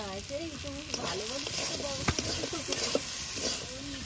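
Spice paste with turmeric and salt fries for a duck curry, a continuous close sizzle with scraping stirs, while a voice talks over it throughout.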